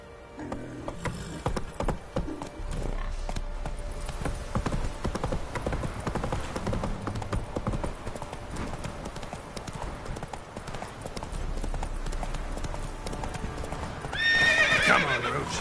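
Roach, a horse in The Witcher 3, trots with steady clip-clop hoofbeats throughout, then gives a loud neigh near the end over a busy game soundscape with faint mechanical clicks.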